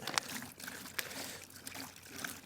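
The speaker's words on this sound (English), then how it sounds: "Pour that in there." About 3.2 litres of water is poured from a container into a tub for mixing lawn treatment powder outdoors, a soft, faint trickling and splashing with a few small knocks.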